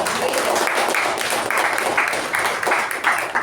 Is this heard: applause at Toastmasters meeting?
yes